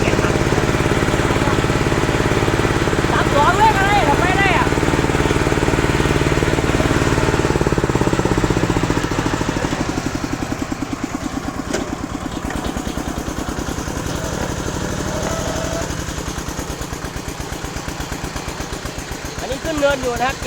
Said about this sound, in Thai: อ้ผมจะเข้าบ้านนะก็เลยเอารถไถลากเลย